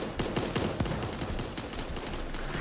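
Gunfire rattles in the cartoon battle-royale game Super Animal Royale, rapid bursts of close shots in quick succession with no talking.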